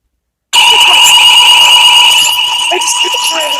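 A school fire alarm cuts in after half a second of silence and rings loudly and continuously, a harsh steady electronic tone that holds without a break to the end.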